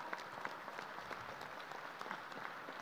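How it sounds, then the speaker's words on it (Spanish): Faint, steady applause from an audience at an international forum on social dialogue and human rights, a continuous patter of many hands heard from a distance. "Un aplauso también a la compañera."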